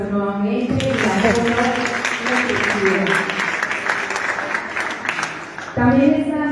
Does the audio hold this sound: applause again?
yes